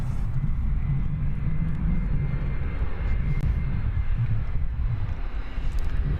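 An American Airbus A319 jet on approach to DFW Airport gives a steady, broad engine roar that stays loud and even throughout, with light wind noise and no voices.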